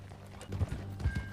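Horse hooves clip-clop in Red Dead Redemption 2, a few soft, low thuds at an unhurried pace, faint and close, with no talk over them.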